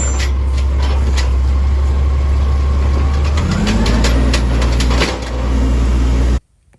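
Garbage truck's hydraulic arm lifting a bin into the hopper, a loud engine rumble and whine with clattering knocks, the pitch shifting midway, cutting off abruptly near the end.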